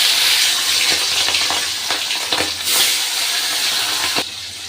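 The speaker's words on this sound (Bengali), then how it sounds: "তেলটা আমার গরম হয়ে গেছে, এবার আমি ইলিশ মাছগুলো ভেজে নেব" Hilsa fish frying in hot oil, a loud steady sizzle and hiss with occasional crackling pops, close by and continuous.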